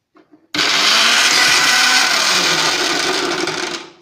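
A mixer grinder whirs through roasted curry leaves, a loud steady motor roar that kicks in abruptly after a couple of faint clicks and runs about three seconds before winding down.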